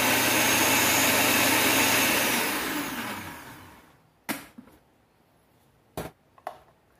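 A blender whirs loudly while chopping garlic, running steadily for about three seconds before winding down, followed by a few sharp clicks and taps of the appliance in a kitchen.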